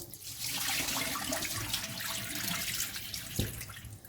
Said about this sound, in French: Je vide l'eau